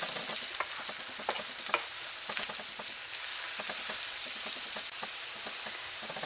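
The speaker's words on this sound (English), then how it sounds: "I'm going to give it a stir." Norwegian casserole with carrots, cooked down under a lid, stirred in a wok: steady scraping and stirring strokes over a continuous loud sizzle, close up, with no talking.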